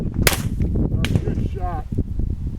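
Gunshots ring out during a beginner's target shooting lesson: two sharp, close cracks about a second apart over faint background noise, with a brief voice in between.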